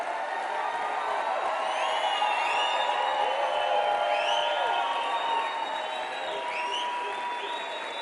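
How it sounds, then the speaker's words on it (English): An indoor audience gives sustained applause with scattered whoops and cheers, a dense, steady wash of clapping that holds at an even level throughout. "The applause was a little long."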